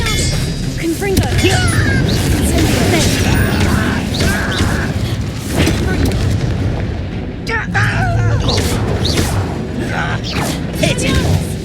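Blasting spell explosion in the Hogwarts Legacy video game, a loud booming burst amid dense ongoing combat noise and clatter, with game character voices around it.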